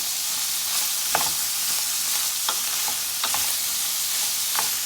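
Onions caramelize in a pan with a dense, bright sizzle, while a utensil stirs them in a few distinct scraping sweeps spaced a second or so apart.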